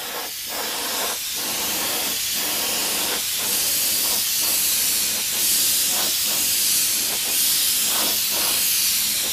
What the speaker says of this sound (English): I'm just letting it spray over the edge of the part